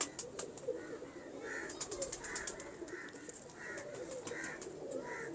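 Breeding pigeons coo in soft, repeated rounded calls at a steady rhythm, with faint rustling and other bird noise in the background.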